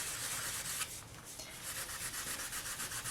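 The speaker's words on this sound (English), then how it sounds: "give everything a sand, then work your way up through the grits until you reach your highest grit" Sandpaper rubbed over a polymer clay piece, a close, continuous scratchy rasp in quick back-and-forth strokes, alone without any talk.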